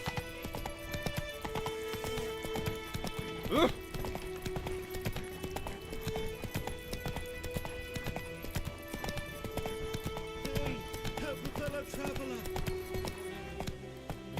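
Galloping horse hooves in The Witcher 3, steady rhythmic clip-clop running throughout, with game voices and someone talking over it.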